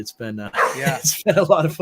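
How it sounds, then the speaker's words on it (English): A female puppy gives a few short barks and yips indoors, mixed in with a person talking over them. "A puppy. Yeah, I don't know what she's barking at."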